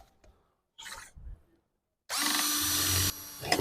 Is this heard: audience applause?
no